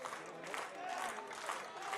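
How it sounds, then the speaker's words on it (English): Fans at a summer collegiate baseball game between the Upper Valley Nighthawks and Keene SwampBats clap in a faint, rhythmic patter amid ballpark crowd noise, with a voice faintly audible underneath. "And the claps start from the Keene fans in the Keene dugout"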